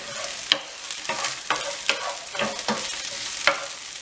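Crushed garlic cloves stirred and frying in a pan for a lobster pasta, a steady sizzle broken by regular scraping stir strokes about every half second, close and fairly loud with no talking.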